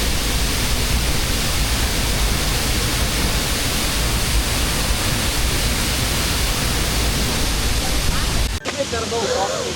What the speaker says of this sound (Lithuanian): Pirmasis krioklys.